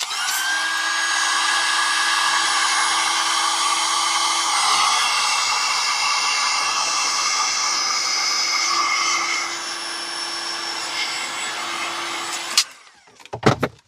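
A heat gun blows steadily over resin in a craft mold, a loud, even whirring hiss with a faint tone that runs unbroken for about twelve seconds before cutting off, followed by brief handling clatter.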